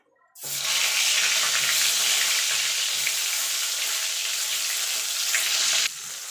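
Eggplant pieces drop into hot oil after a brief quiet moment, setting off a sudden loud, hissing sizzle that stays dense and constant before easing slightly at the very end.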